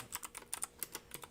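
Typing on a mechanical keyboard with blue switches, a quick irregular run of sharp, clicky keystrokes, close and fairly light, heard alone without talk.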